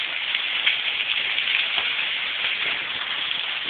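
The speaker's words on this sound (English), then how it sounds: "We're getting some hail now." A storm pouring down hail and rain, heard as a dense, unbroken hiss of heavy precipitation striking surfaces, loud and even from start to finish, with no voices.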